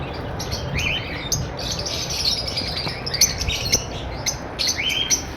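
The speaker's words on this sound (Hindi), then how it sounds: "ये भी ब्लू पेस्टल स्प्रिटिनो का ब्रीडर पेयर है।" A breeder pair of blue pastel spritino birds chirps steadily in close, bright, repeated tweets and short song phrases over a low background rumble, with no talking.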